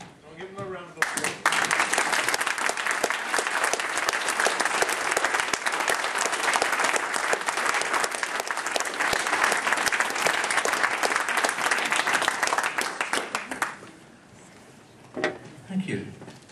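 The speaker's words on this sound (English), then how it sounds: "I'll give them a round of applause" A crowd of residents gives a long, loud round of applause for petition presenters at a community meeting about an incinerator, steady dense clapping that stops abruptly, followed by a few stray claps and murmurs.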